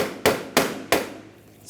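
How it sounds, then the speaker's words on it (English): A hammer strikes push pins into the front lower grille of a 2010-2014 Volkswagen GTI, giving three sharp, evenly spaced taps and then a fourth starting at the end, close and crisp with no talking. "Just use a hammer, push them in, or even tap them in"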